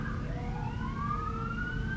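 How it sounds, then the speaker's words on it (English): A fire truck siren wails steadily at an evening theme park, its rising tone sweeping upward through the whole stretch over a dense, noisy background of crowd and traffic rumble. "Fire truck."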